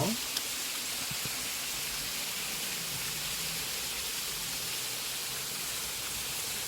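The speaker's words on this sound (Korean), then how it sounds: "문원 폭포도 지난번에 왔을 때보다는 물이 많아서" Munwon waterfall on Gwanaksan, running fuller than usual, gives a steady, even broadband rush of falling water throughout, continuous and unbroken with no distinct events.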